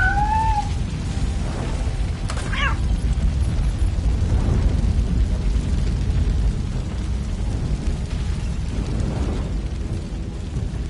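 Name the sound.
fire burning, from the Robocop video game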